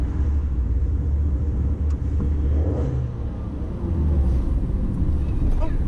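An Abarth 595 decorated with Christmas lights rolls over speed bumps, its engine rumbling low with a few thuds and knocks from the suspension, while wind buffets the microphone.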